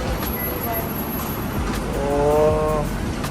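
Car passing on a Singapore street near Marina, a broad engine and road roar rising and swelling toward the end, heard up close in steady traffic noise with people talking over it.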